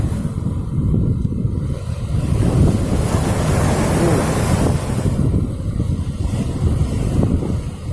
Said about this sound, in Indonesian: Tuh kan, ombaknya lumayan besar.